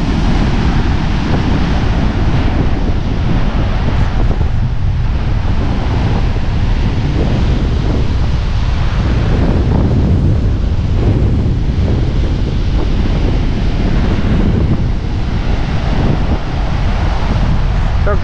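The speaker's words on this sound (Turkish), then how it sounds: "Bakın, Akdeniz'in dalgalarını göstereceğim şimdi size." Loud, continuous roar of Mediterranean Sea waves crashing and rushing on a rough day, heavily buffeted by wind on the microphone throughout.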